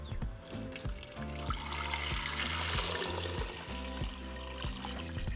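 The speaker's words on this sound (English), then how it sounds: "I'm going to fill it up halfway with water." Water pours steadily from a tap into a pot holding six yellow potatoes, filling it halfway, a continuous rushing splash up close, with soft music playing underneath.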